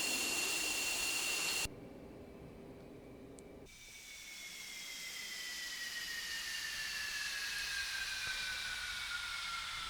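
F-15 jet engines winding down after shutdown in the DCS flight simulator, a loud steady whine cut off abruptly, then a high tone that slowly falls in pitch against a rising hiss.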